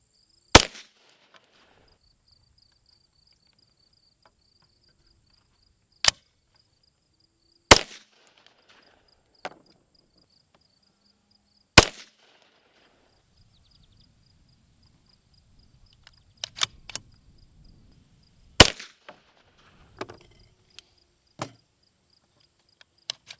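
A Grand Power Stribog A3 pistol-caliber carbine fires single shots at spaced, irregular intervals. Each report is sharp and loud against near silence, with faint clicks and handling noise between shots.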